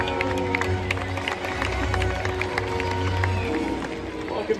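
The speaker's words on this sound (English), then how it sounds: "let's give them a big round of applause here" Audience applause and crowd noise fill the stands at a SeaWorld San Diego orca show, a broad sustained clatter of clapping with scattered cheers over a steady low hum.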